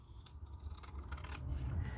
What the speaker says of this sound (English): just take your scissors and just trim